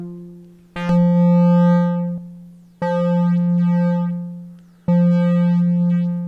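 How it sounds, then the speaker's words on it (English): Distorted waveform tones from a Nord Micro Modular synthesizer patch, three sustained buzzy notes rich in harmonics, each starting abruptly and fading slightly before the next, loud and alone. "There's the distortion in the circuit there."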